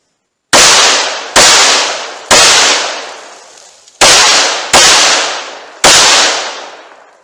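Six sharp gunshots from a revolver and an automatic pistol fired at targets on a range, loud and close, spaced in an uneven rhythm, each with a fading ring and no talk between them.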